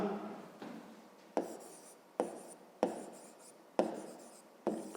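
Pen strokes scratching on paper during a fifth-grade math exercise, a run of short rhythmic writing bursts, each starting sharply and fading, close and alone without talk.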